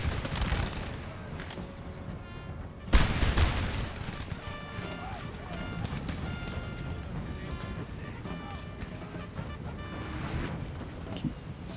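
Battle din from Napoleon: Total War fills the scene, with dense musket volleys crackling continuously and a heavy artillery boom early on, all loud and sustained with distant rumbling under it.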